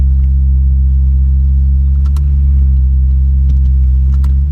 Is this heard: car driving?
yes